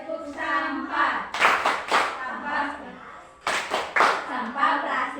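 Children in a fifth-grade classroom perform a rhythmic clap chant, sharp bursts of hand claps in patterned groups mixed with their chanted voices, loud and close.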